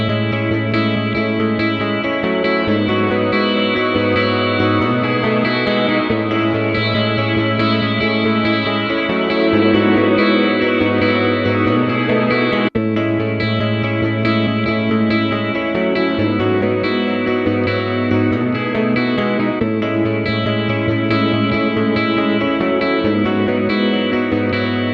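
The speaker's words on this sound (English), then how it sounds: "Also from Motown, you have their Hitsville reverb chambers." Sustained music drenched in lush reverb from a UAD Spark emulation of Motown's Hitsville reverb chambers, tones blooming and lingering with a roomy echo tail at steady loudness throughout.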